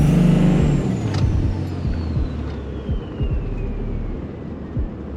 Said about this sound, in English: I love that S475 spooling up.